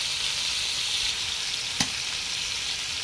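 Prawns are dropped into pointed gourd frying in a pan, raising a steady close hiss of sizzling oil with one brief clatter partway through; no one speaks.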